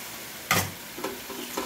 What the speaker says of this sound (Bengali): এবারে আমি দিয়ে দিচ্ছি এখানে আদা, রসুন আর লঙ্কা বাটা,